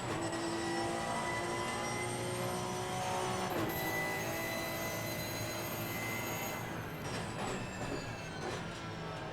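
A Porsche race car in a sim racing game, played through an Oculus Quest 2 headset, roars steadily and loudly throughout, its engine note rising and shifting with gear changes and no talk over it.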